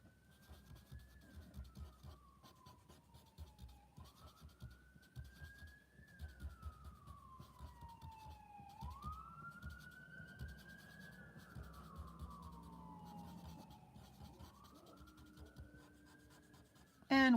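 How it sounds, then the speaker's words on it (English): A wailing siren rises and falls in long sweeps several times, moderately loud and somewhat distant, over steady background noise. "what you're hearing are sirens"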